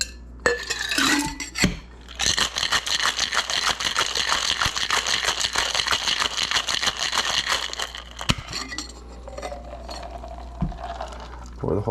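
A cocktail shaker full of ice is shaken hard for a Mai Tai with Jamaican rum, giving a loud, continuous rattling clatter for several seconds that stops abruptly, with a few clinks before and after.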